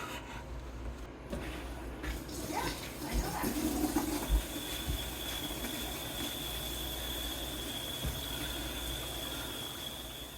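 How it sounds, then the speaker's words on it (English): A faucet fitted with a newly installed Waterdrop X12 water filter is opened and water begins rushing steadily, a soft continuous hiss that rises after a few clicks and knocks and then holds. "let's go turn the water on"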